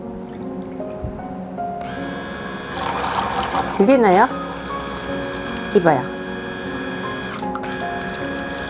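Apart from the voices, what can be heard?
hand blender running with air bubbles in soap mixture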